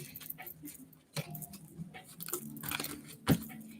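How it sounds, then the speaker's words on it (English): Tarot cards are shuffled backwards by hand, giving soft, irregular riffles and a few sharper snaps, close and quiet with no talking. "I'm shuffling my cards backwards."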